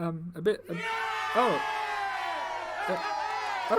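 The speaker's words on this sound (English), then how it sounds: "I didn't want that much of a round of applause" An audience cheers and whoops, with loud shouting voices rising and falling over a lively crowd, mixed with sustained vocal hollering.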